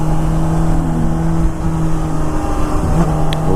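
A 600cc sport motorcycle engine held at high RPM, a loud, steady, smooth whine close by with no talking.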